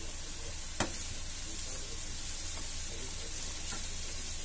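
Chopped onion frying in a pan with a seven-spice blend and a piece of cinnamon, a continuous close hiss of oil with a few soft pops and one brief tap of a utensil.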